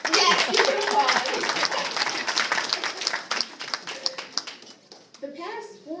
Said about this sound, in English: Now, yes, you can applaud